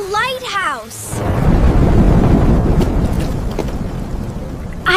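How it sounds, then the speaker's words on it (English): Loud cartoon thunderstorm: a heavy thunder crash gives way to a dense, steady roar of strong rain, with a short voice at the start and again right at the end. "The rain is so strong."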